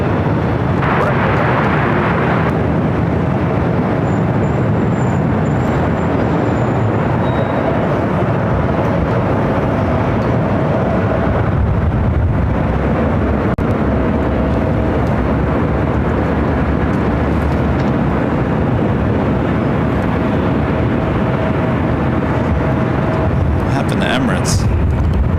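Jet airliners land and taxi at LAX, a broad, loud rumbling roar of engines that holds for most of the stretch, with talking voices running over it.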